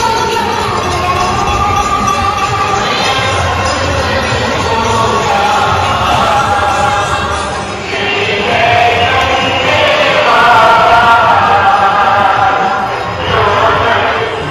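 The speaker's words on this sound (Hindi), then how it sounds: "यहाँ पे भीड़ का जो हिस्सा है, यहाँ पे साउंड इतना हो रहा है कि मुझे माइक यहाँ पे लगा कर बोलना पड़ रहा है" A loud, dense crowd roars steadily at the Ganga Aarti in Haridwar during the Kumbh, a continuous wash of many voices and festival noise that swells in the middle and stays close and overwhelming throughout.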